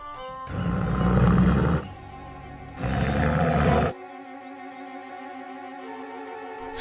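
Two long, loud roars of wild jungle animals like big cats, each lasting over a second, separated by a quieter musical background that continues after them with no talk.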